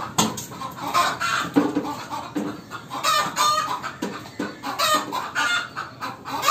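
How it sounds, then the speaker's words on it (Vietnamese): On a Vietnamese farm, a hen in its coop cackles loudly and repeatedly before laying an egg, urgent bursts of clucking in an irregular rhythm, close and prominent with no talking. "Con gà chuẩn bị đẻ trứng đây. Kêu ầm ầm đây."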